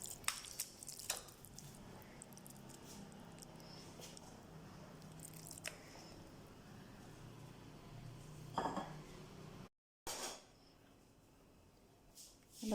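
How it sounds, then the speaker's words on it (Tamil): Curd mixed into cooked rice for South Indian curd rice: soft, close squishing and gentle stirring with occasional spoon clinks against the dish, quiet throughout, with a brief silent gap near the end. "இப்போ நம்ம இந்த கர்ட் எடுத்து ரைஸில் போட்டு மிக்ஸ் பண்ணிக்கலாம்."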